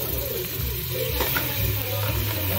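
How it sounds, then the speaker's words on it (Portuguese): Crab being added to a pan of well-toasted garlic, giving a steady, close sizzle and frying hiss with light stirring scrapes throughout. "Depois do alho bem torradinho ali, ó, nós vamos acrescentar os siri."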